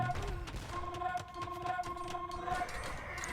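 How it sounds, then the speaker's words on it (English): Bombard cannons fire in a real-time strategy match, and their shots land as repeated booming blasts amid dense clattering battle noise and game sound effects, with no voices. "And the bombard cannon is doing such a good job."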